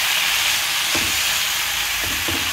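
Amaranth leaves (thotakura) sizzle and fry in a pan, a steady close hiss with a few soft stirring scrapes and no talking.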